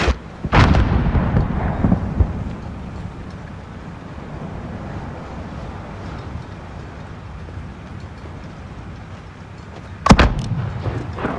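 Booming mortar blasts in the 2019 Call of Duty Modern Warfare game: one heavy, near impact at the start and another sharp blast near the end, with a rumbling battlefield wash between them.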